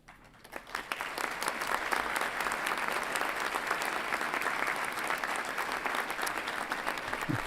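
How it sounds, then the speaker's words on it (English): Honors scholar graduates are applauded at a veterinary medicine and biomedical sciences commencement. Steady, dense applause from a large audience builds quickly and holds at an even level, with close individual claps audible. "please join me in applauding the accomplishments of this group of outstanding young colleagues"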